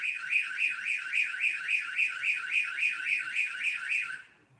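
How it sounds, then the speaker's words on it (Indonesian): A Dahua XVR WizSense recorder sounds its face-detection alarm: a loud, steady electronic warble rising and falling about three times a second, repeating evenly for over four seconds before cutting off, with no voices. "apabila ada wajah yang terdeteksi pada pada layar, maka akan menimbulkan alarm"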